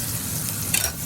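Food sizzles steadily as it is stirred in a pan over medium heat for a stir-fry dinner, a continuous close crackle with a brief scrape of the utensil near the end.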